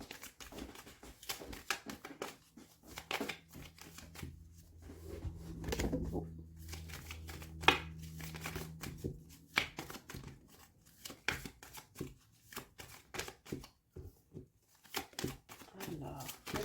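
Tarot cards are shuffled for a reading in soft, irregular riffling and papery patter bursts, fairly quiet and close, with a denser flurry in the middle and a voice speaking at times.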